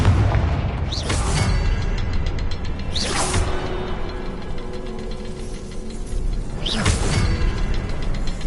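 Confringo fire spell blasts in Hogwarts Legacy: three heavy booming explosions spaced a couple of seconds apart, each with a sharp whooshing burst, over a low rumbling game ambience.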